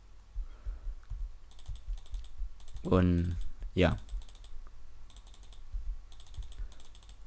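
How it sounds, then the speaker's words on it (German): Rapid clicking and typing on a computer keyboard during gaming, quick bursts of close, crisp keystrokes with pauses between them, while someone speaks briefly over them. "Ich hoffe, man hört mein Klicken jetzt nicht so ewig laut."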